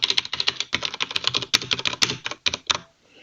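Rapid typing on a computer keyboard while writing Haskell code, with bursts of crisp clicking keystrokes in close succession, a few louder key strikes, then a short pause and silence at the end.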